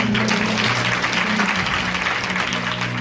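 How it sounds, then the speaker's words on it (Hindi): Seminar attendees at a prayer group's National Women's Day event break into vigorous, continuous applause, loud and dense throughout, with a low hum beneath the clapping. "जोरदार ताली हो जाएगी"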